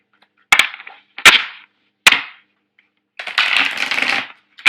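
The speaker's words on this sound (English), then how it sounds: "I can get the cards shuffled out before I switch over to the next sign" A deck of tarot cards is shuffled by hand: three sharp riffling snaps in quick succession, then a longer, continuous riffle, close and crisp with silence between.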